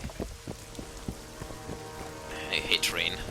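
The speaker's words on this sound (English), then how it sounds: "I hate rain." Rain falling in The Witcher 2 video game, a soft steady patter with a few sharper knocks, joined near the end by brighter chirping or whistling sounds over the low wet ambience.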